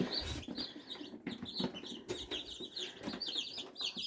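Newly hatched chicks in an incubator with the lid opened, a dense, continuous chorus of high, bright peeping from many birds close by, with no talk.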